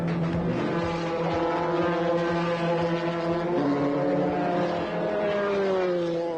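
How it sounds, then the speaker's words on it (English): Formula 3 racing cars at Silverstone, engines droning loudly and steadily with rising and falling pitch as cars pass, a continuous close motor roar without talk. "Silverstone has been the scene of many great motor races. Formula 3 provides our action today."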